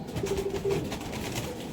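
Pigeon cooing at a breeding loft of Chinese Kamagar pigeons, a soft low steady coo repeating through the moment amid faint background noise, no voices.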